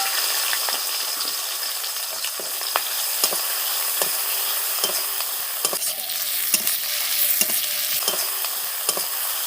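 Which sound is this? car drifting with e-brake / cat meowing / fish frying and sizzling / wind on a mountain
fish frying and sizzling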